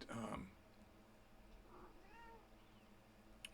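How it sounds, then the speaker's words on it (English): A pet cat gives a faint, short meow or two in the background of a quiet room, distant and low in level. "We're about to have the visiting of my cat, which is good news."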